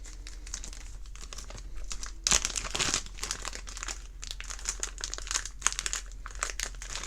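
A replacement reel part, a 5 by 8 by 2.5 bearing, is pulled from a plastic bag, giving close, steady crinkling with a sharper burst of rustling partway through.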